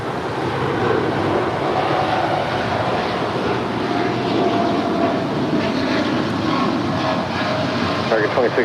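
Airliner departing LAX, a broad, loud jet roar rumbling steadily throughout, heard from nearby outdoors, with voices talking over it.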